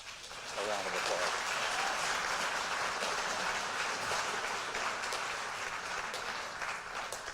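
Audience at a school district scholarship night breaking into dense, sustained applause, a loud continuous roar of clapping from a large crowd with some voices mixed in, holding steady before easing slightly toward the end.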